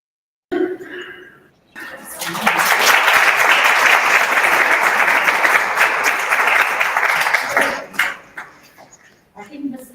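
Loud audience applause at a women's market access breakfast swells after a short pause and holds steady for several seconds before tapering into scattered claps and murmuring.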